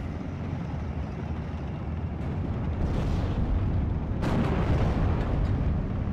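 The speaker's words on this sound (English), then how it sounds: "Mortar's still firing away onto where I believe the enemy AT gun is." Mortar fire in the video game Steel Division: Normandy 44, Normandy setting, heard as a dense, continuous wall of rumbling booms and battle noise, growing louder toward the end with sharper blasts layered in.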